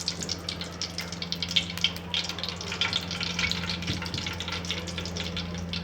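Cooking oil heating in a kadhai over a gas flame, giving a steady close crackle and faint sizzle with scattered small pops above a constant low hum, no voices.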